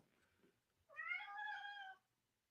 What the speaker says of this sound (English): That is a cat, and she is in a basket.